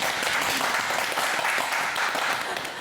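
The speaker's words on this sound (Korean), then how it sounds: "박수 한번 해주시기 바랍니다." Audience applause during a Buddhist monk's counseling talk show, a short, steady patter of many hands clapping close by.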